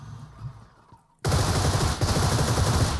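Quiet rustling gives way to sudden, sustained rapid gunfire in PUBG Mobile, loud and continuous like a burst of automatic weapons fire.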